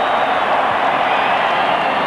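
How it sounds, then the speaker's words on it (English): A packed stadium crowd roars at a 1999 Australia versus Manchester United football match, a dense, steady wall of cheering and murmur that stays loud and unbroken throughout. "Well, the crowd goes up, and gee, the stadium's filled up enormously"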